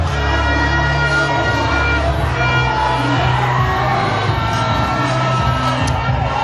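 A large crowd cheers and shouts steadily at a swimming championship relay race, a loud, dense roar of voices with whoops rising and falling across the whole stretch.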